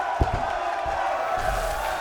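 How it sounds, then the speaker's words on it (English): A wrestling crowd roars and cheers in a large arena, a sustained wash of voices with a few brief low thumps mixed in. "This crowd is electric."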